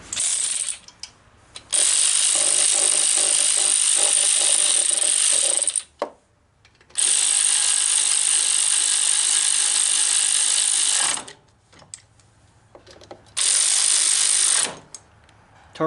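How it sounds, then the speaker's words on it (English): A ratchet tightens bolts on a Cub Cadet mower during a starter and throttle cable replacement, producing long, loud, close bursts of rapid clicking separated by short pauses, with no talking. "Get out the ratchet."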